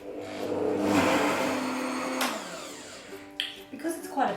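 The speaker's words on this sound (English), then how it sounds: "Turn the blender on low and off we go." A blender on its low setting churns a thick caramel mixture with a loud, steady whir for about two seconds, then cuts off, leaving a few light clatters and knocks.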